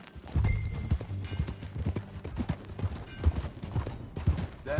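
Rhythmic clip-clop of horse hooves at a brisk gallop in the Red Dead video game, fairly close, with a faint voice and a game-like mix underneath.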